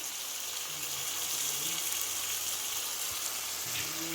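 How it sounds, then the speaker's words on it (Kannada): Chicken liver frying in masala gravy gives a steady, soft sizzle, a faint, even hiss throughout with no talking. "ಈ ರೀತಿ ಲಿವರ್ನ ಹಾಕಿ ಫ್ರೈ ಮಾಡಿ"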